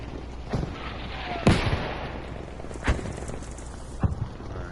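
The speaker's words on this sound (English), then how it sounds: "It's all gunfire to the right." Gunfire from a Battlefield V Firestorm match sounds at a distance as a few separate sharp cracks and thumps over a steady low ambient background.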